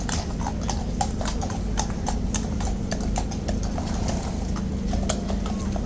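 A large guard horse's hooves clip-clop on hard ground in a rapid, steady run of close, sharp knocks over a constant low background hum.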